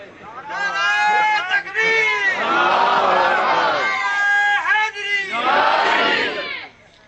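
A crowd at a religious gathering shouts a slogan in loud, sustained waves of voices, rising and falling in several bursts before cutting off.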